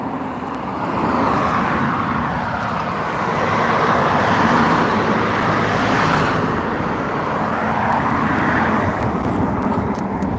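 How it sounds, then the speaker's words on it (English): A steady, loud jet ski engine drone rises and falls slightly as it passes nearby off a beach, continuous throughout with no pauses. "An aqua moped. I'd call it an aqua moped,"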